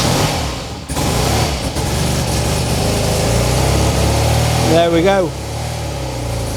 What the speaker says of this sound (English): Let's have a cheeky start up. Fuel tap, bit of choke.